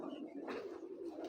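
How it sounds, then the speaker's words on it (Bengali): Pigeons coo softly in a short, low, rounded call, faint against light background noise. "এখানে 4 পিস কবুতর আছে"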